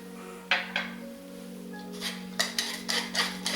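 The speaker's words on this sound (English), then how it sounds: "I'm going to whisk in also a 1/4 teaspoon of nutmeg" A whisk beating nutmeg into an egg-based quiche filling in a bowl, a quick series of light metallic taps and clinks against the bowl over a low steady hum, growing more rapid toward the end.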